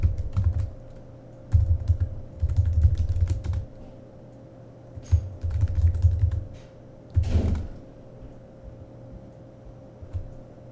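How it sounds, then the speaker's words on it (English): Bursts of computer keyboard typing during a login, quick clusters of key clicks separated by short pauses, close and fairly quiet over a steady low hum, with no talking. "I just hit command or enter, and I'm just logging in."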